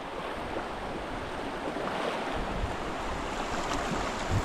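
Strong current of floodwater rushing past produces a dense, steady broadband roar and splash with wind buffeting the microphone, loud and unbroken, with no voices.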